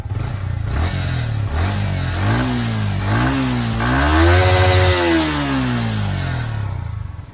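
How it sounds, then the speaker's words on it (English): The exhaust of a Yamaha XSR155 155cc motorcycle sounds up close through several throttle blips, its pitch climbing and falling. A longer, louder rev builds near the middle before easing back to idle. "Take a listen at the exhaust."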